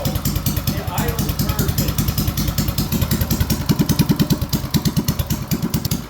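A Performance 224 engine idles slow and low, thumping in a steady, even rhythm close to the mic, while people talk over it.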